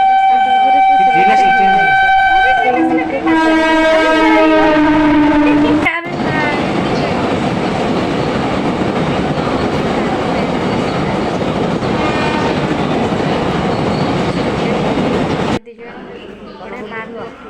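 A train runs close by, starting with a loud horn-like siren blast before the heavy, continuous roar of wheels and carriages that cuts off abruptly near the end, followed by quieter sounds.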